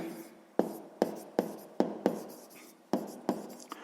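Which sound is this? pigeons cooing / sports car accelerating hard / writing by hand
writing by hand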